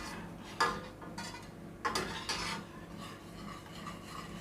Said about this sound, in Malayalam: ഇത് നല്ലോണം ഇളക്കി കൊടുക്കണം, അല്ലെങ്കിൽ മഞ്ഞൾപ്പൊടിയും ഇതൊക്കെ അടിക്ക് പിടിക്കും.